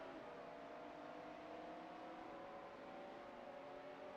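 A Vector W8 and a Lamborghini Diablo GTR racing in an AI racing video game: a steady, faint engine whine with a droning hum, held constant without revving changes.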